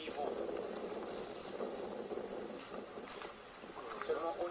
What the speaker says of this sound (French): le vent est assez fort